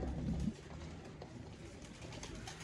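Pigeons coo softly, with one fuller coo at the start and then faint background calls over a low, steady ambient hum.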